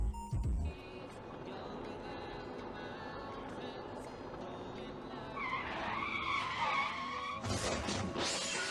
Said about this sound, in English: As car slides out of control